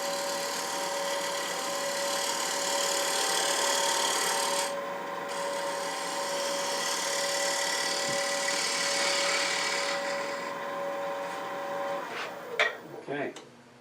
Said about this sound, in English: I'm going to take a few passes with this bowl gouge on this 7 to 8 inch chestnut bowl.